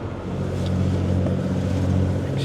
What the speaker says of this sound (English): I can maybe back off on the engine a little, make it a little quieter in here